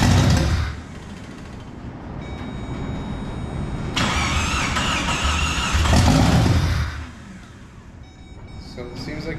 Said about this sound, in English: Why is it so loud? Does it not have an exhaust?